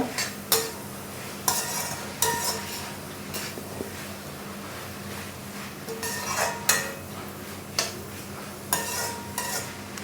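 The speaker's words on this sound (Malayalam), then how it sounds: "ചിക്കനും മുട്ടയും കൂടെ തട്ടി കൊടുക്കുകയാണ് നന്നായിട്ടൊന്ന് ഇളക്കി കൊടുക്കുക" Chicken and egg are stirred in a hot pan for restaurant-style chicken noodles, with a steady sizzle beneath repeated sharp clinks and scrapes of a utensil against the pan at an irregular rhythm, close and fairly loud.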